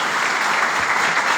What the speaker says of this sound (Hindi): ताली अच्छे से बजाओ।